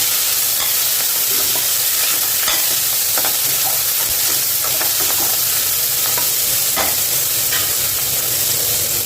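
Sliced onions sizzle loudly in hot oil while being stirred in a pan for potato biryani, with a constant frying hiss and frequent scraping strokes of the spoon, close and without talk.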